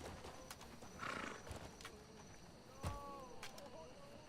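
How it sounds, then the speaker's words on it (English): Scattered horse hoof clops on a hard surface in the video game Crimson Desert, a few sharp knocks spaced unevenly, with faint background ambience and no talk. "Get on your horse."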